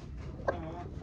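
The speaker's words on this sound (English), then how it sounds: "We have a broody hen." A broody hen sitting on a clutch of eggs gives a couple of short, soft clucks close by over low background noise.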